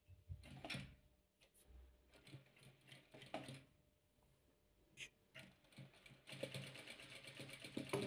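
A domestic sewing machine stitches patchwork squares of disco-style fabric, running in uneven bursts with mechanical clatter and pauses, close and moderately loud, with no talking.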